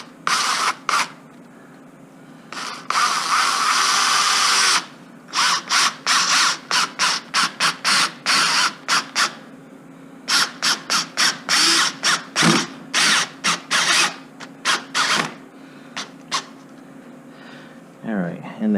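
A power drill drives deck screws into a wooden couch frame in repeated short bursts, after one long opening run, loud and close with brief pauses between pulls.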